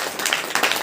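A church congregation at a Saturday prayer meeting clapping together in thanks, a brief dense burst of many hands applauding in a reverberant hall.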